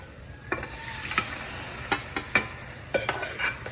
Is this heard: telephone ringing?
no